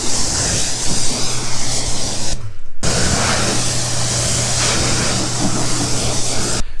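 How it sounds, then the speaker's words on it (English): A small undercarriage washer sprays a steady, loud hiss of water under a salt-crusted car, with a constant motor hum beneath and one brief pause mid-clip before the spray resumes. "So I also have this little undercarriage washer here because the customer did opt to get the undercarriage just rinsed."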